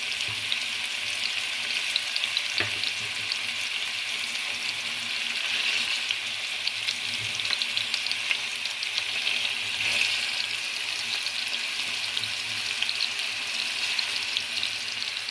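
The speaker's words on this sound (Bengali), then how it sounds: "এখন আমি এপিটে পুট করে ভেজে নেব" Pangas fish pieces fry in hot oil with a continuous, fairly close sizzle and crackle, and occasional faint stirring taps sound through the steady hiss.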